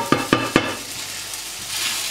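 Three quick stirring scrapes in a frying pan, followed by a steady soft sizzle of partially cooked leeks, potatoes and onions frying close by.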